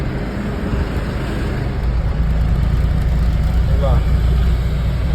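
Road traffic and loaded goods vehicles idle and rumble on a narrow single-lane bridge, a constant heavy low engine drone that swells slightly midway, with a brief faint chirp near the end.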